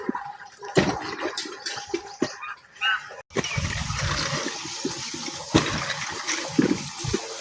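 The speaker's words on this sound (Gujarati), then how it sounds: "પપ્પા ગયા છે પાણી કાઢવા માટે, તો બતાવો પાણી આવી ગયું છે" Water gushes hard from a farm pump pipe into a trough for cattle, a loud, steady rushing splash that starts abruptly and continues, with earlier intermittent splashing and dripping before it.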